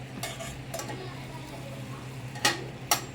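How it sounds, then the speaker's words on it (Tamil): Small onions and tomatoes being cut for a kuzhambu, with a few sharp knife taps on a board, two louder near the end, over a steady low kitchen hiss. "குழம்புக்கு வந்து வெங்காயம் தக்காளி எல்லாத்தையும் கட் பண்ணலான்ட்டு இருக்கேன்"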